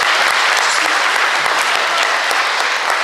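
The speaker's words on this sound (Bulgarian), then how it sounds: "нека пляскаме на Господа" A church congregation in Asenovgrad claps for the Lord during a prayer service, a dense, steady burst of many hands applauding together, loud and sustained throughout.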